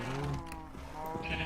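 Sheep bleating in a Minecraft modpack, a few wavering bleats up close against a steady background hum.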